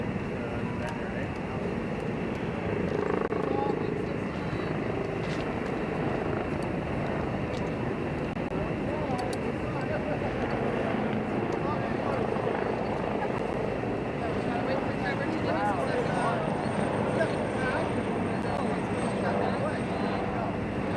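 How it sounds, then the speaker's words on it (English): A helicopter comes in to land at Toronto General hospital, a steady low rotor and engine drone that holds throughout at moderate distance while people talk over it. "that helicopter is landing right now at Toronto General."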